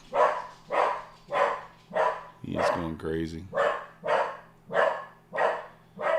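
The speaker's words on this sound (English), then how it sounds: "He's just barking at anything." A dog barks in an even, repeated rhythm of about ten loud barks close by, while someone speaks briefly partway through.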